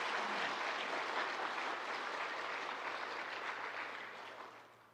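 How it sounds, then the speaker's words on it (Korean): A church congregation gives a sustained, even wash of applause at a pastor's retirement thanksgiving service, full and steady before fading out at the end. "다시 한번 박수 해주시고."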